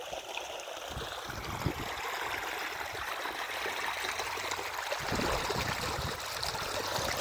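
Continuous trickling and gurgling of irrigation water running through a channel in a mung bean field, steady and close, with no voices.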